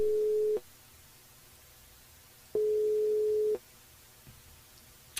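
A telephone line tone sounds while a live radio show calls back a listener: two steady, mid-pitched beeps, one short and one longer, separated by a quiet gap, with only faint line noise between them.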